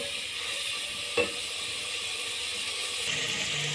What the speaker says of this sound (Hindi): अच्छी तरह मसालों की भुनाई करनी है।